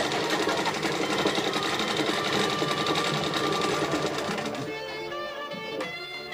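A sewing machine runs in a steady, dense mechanical rattle of rapid stitching for about four and a half seconds, then drops off, leaving quieter tonal sounds behind.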